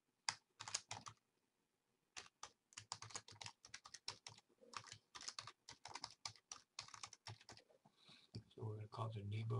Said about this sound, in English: we're going to go ahead and type in